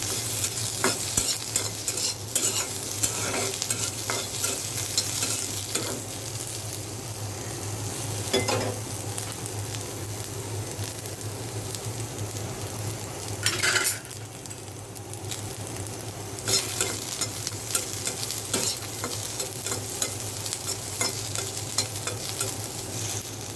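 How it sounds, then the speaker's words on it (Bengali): Onions frying in oil in a home kitchen give a steady, close sizzle with soft stirring scrapes, holding an even level throughout with occasional louder crackles. "পেঁয়াজটা একটু ভাজতে হবে তেলে।"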